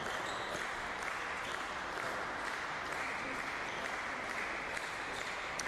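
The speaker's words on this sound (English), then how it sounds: "And slow clapping is for the other match." Spectators at a neighbouring tennis match during ITF junior finals on hard courts give a slow, distant clap, a faint, diffuse patter of hands behind a soft broadcast-like murmur.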